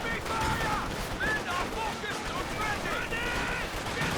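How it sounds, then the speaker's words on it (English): Grenades are traded in a Company of Heroes 2 battle, producing dense, close bursts of explosions and crackling gunfire over a few seconds, with some high whistling tones. "Both lobbing grenades at each other."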